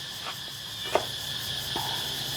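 Insects chirp in a continuous high-pitched drone in rural Laos or Thailand, with a few faint clicks and taps scattered over the steady night-time background.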